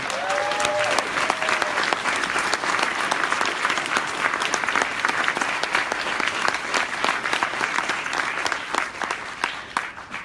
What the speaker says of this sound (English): everybody give all the women who organized today's historic and monumental march a round of applause, please